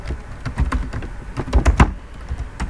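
Someone types on a computer keyboard, a close run of uneven clicking keystrokes with a few louder taps in quick bursts, with no talking.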